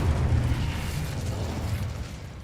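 An Incendio fire spell bursts in the video game Hogwarts Legacy, a loud, close, roaring fiery blast that rumbles on for a couple of seconds before slowly fading.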